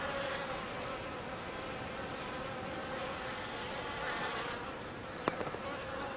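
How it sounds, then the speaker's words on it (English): Insects buzz steadily in summer grass on a mountain plateau in India, a dense, even drone of many wings close by, broken only by a brief faint click near the end. "At the height of summer, the grass is alive with insects."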